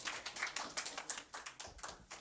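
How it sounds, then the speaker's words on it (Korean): Students in a dental technology lab class clap for their class representative at the end of term, a faint, loose patter of a small group's claps with a few sharp individual hits. "박수 한번 주세요."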